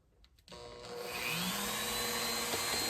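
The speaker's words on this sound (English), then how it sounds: "So here's my Dremel with the diamond bit." A battery-powered Dremel with a diamond bit spins up after a few faint clicks and then grinds steadily on a tin toy James Bond car, a high whining buzz that climbs and holds close to the mic.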